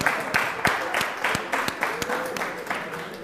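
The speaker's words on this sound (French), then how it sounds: "Alors là, ils applaudissent beaucoup." An audience applauds a recited poem, a burst of clapping with strong individual claps in a loose rhythm, close and fairly loud, fading slightly toward the end.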